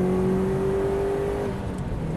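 A turbocharged Subaru Impreza WRX STI engine pulls steadily under load in fourth gear from 3,000 rpm, a sustained drone with a slight whine, close and continuous with no talking.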